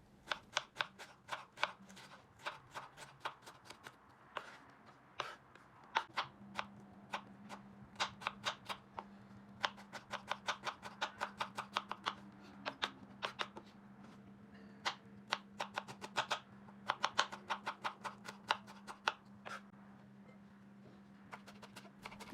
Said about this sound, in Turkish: şimdi soğanlarımı küçük küçük doğramaya geçiyorum